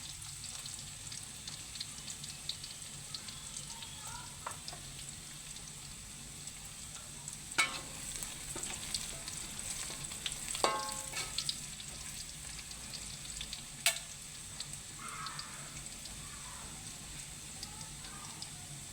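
Chili paste sizzles and crackles softly in cooking oil in a pan, a steady hiss with occasional scraping stirs and light clinks.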